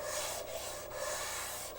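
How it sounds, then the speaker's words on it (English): A hand drill bores into wood with a steady, continuous rasping grind and faint rhythmic dips, close and fairly loud, no voices. "that hand drill is cutting the fibers in that wood"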